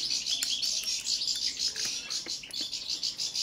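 A caged European goldfinch of the Balkan form, Carduelis balcanica, sings a rapid bright twittering song of quick chirps and trills, close and clear, continuous with brief pauses and no talk.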